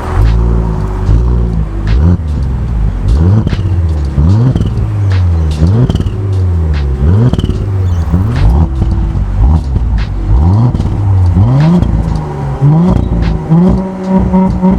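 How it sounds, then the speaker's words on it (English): A 2017 Audi S5 with a turbocharged six-cylinder engine revs loudly and up close, climbing and dropping through a rapid series of repeated rising pulls and throttle blips, with a deep rumbling tone throughout and no talking. "Now, can we talk about the sound of the car?"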